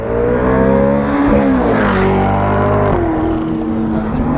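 GT4 sports car sweeping past on a road, a loud close engine roar with rising then falling pitch as it passes, revving strongly and fading toward the end.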